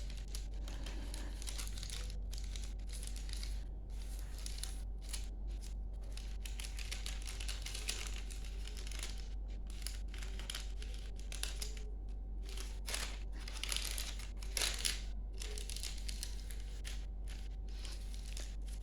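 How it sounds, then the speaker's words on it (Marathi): Sheets of paper folded at the corners along a centre pencil line: soft crinkles and creasing rustles run steadily through, with a few sharper crackles, over a constant low hum. "अशा प्रकारे कोपरे आपल्याला दुमडायचे आहेत, घडी घालायची आहे"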